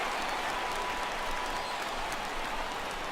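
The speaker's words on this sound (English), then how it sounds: "This crowd oohs and ahs every time this guy hits a fly ball" A stadium crowd in the baseball video game MLB The Show 16 gives off a steady, dense roar of cheering and murmuring. It holds at an even level for about three seconds, with no single voice standing out.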